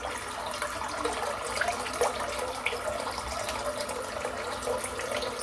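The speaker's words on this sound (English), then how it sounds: "Right, let's have a bit of water and see what this is like." Water runs steadily from a tap onto a shaving brush and soap, a continuous close splashing hiss that holds at an even level throughout, with no talking.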